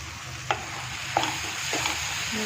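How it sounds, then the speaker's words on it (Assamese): Spices (chilli powder, chicken masala and coriander powder) sizzle softly in a hot pan while a utensil scrapes and stirs a few times, with light tapping against the pan. "অলপ ধুনীয়াকৈ ভাজি ল'ম"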